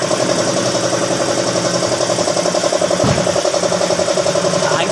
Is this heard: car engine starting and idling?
yes